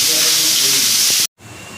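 Fish pieces frying in hot oil make a loud, close, steady hiss that cuts off abruptly near the end.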